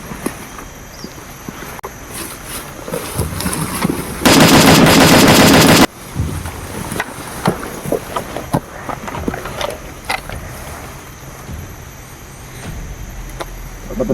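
Automatic gunfire from a video game rattles in one dense, loud burst of about a second and a half, amid scattered shots, impacts and game noise.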